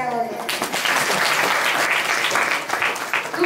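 A kirtan audience claps together in a dense, sustained burst of applause, loud and close, starting just after a brief moment of singing or speech.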